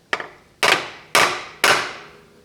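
A hammer strikes the metal transmission drain plug of a Polaris Ranger XP 1000 four times, close and sharp, the first tap lighter, then three heavier evenly spaced blows with short ringing decays.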